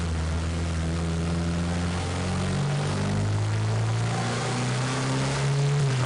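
Turbocharged car engine with a boost controller revving up through the gears, a steady loud drone whose pitch climbs, drops at a shift and climbs again, heard from inside the car with no talking.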